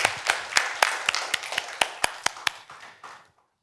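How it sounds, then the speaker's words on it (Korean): A small church congregation claps in a loose, fairly even rhythm of about a dozen sharp claps, then fades out. "하나님께 영광의 박수 올려드리겠습니다"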